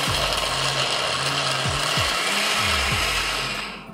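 Nuts being ground for nut milk in an electric grinder: a loud, steady whirring roar throughout with a low motor hum that shifts pitch as the blades churn, then winds down at the end.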